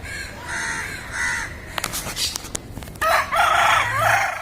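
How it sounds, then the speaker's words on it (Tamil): Two fighting roosters crow nearby, a drawn-out cock-a-doodle-doo near the start and another loud, wavering crow at the end, with brief clatter and thumps in between. "ரெண்டுமே சண்டை சேவல் தான்."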